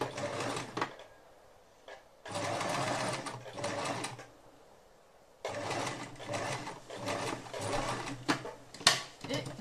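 A domestic sewing machine stitching a seam on handmade bias tape, running in bursts: a brief whir, a steady two-second run, a pause, then a longer run ending with a few mechanical clicks.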